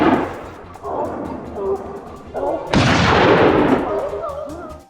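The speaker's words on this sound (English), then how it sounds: "Two precise gunshots rang out, and the wild boar had no chance of escape." Gunfire during a wild boar hunt in a forest, a couple of heavy, booming reports with a sharp loud blast standing out near the middle and echoing tail afterward, close by with some background noise.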